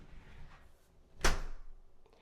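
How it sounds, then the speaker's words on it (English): A door swings shut against new, thicker weather stripping, making a single dull, muffled thunk up close in a quiet room. "And when I close the door"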